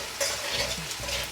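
Red chili, bay leaves and panch phoron crackle and sizzle in hot oil, with a steady frying hiss and stirring scrapes throughout, close and fairly loud.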